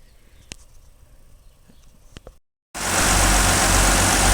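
An old tractor, a 44, starts up after a power steering repair, its engine running loud and steady at close range following quieter handling noises and a brief silence.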